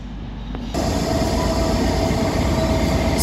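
Northern Trains units 156410 and 150130 arrive at Stockport from Manchester Piccadilly. A steady, loud rumble of wheels and engines fills the platform, and a faint squeal runs through it.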